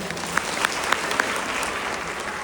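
A seated audience at a women's honour day event in Gandhinagar claps together in steady, close applause. A few sharp individual claps stand out, and the clapping holds for the whole short stretch.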